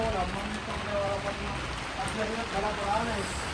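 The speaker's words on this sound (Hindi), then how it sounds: "जो बारिश अभी भी हल्की हल्की बारिश हो ही रही है।" Light rain patters steadily on a goat farm, a soft even hiss of drops with a voice faintly talking over it.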